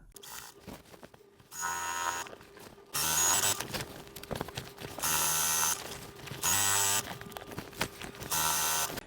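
A sewing machine stitches down quilt binding in five or so bursts of rapid close whirring, each lasting about a second, with short quiet pauses between them.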